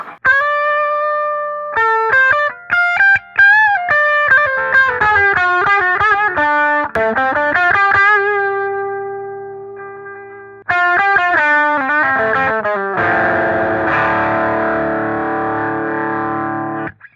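An electric guitar through a Tube Screamer overdrive pedal, an Ibanez S Classic SC420, plays warm ringing chords and single-note runs higher up the neck, ending in a crunchier, more distorted strum.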